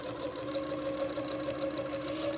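A sewing machine runs a steady, even stitching whir while sewing a tiny French seam in Swiss batiste, close and continuous, with no talk.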